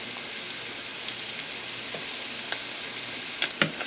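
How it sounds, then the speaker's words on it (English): Cheddar and broccoli soup with bacon fat cooking in a pot, a steady close sizzle and bubbling with a few sharp pops and spatters toward the end. "We're going to let that simmer and cook down."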